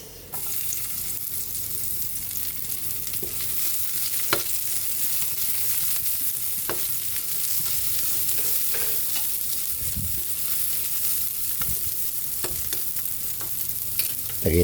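Garlic and onion sautéing in a hot pan for a Filipino home lunch, a steady close sizzle and frying hiss with occasional stirring scrapes and clinks throughout.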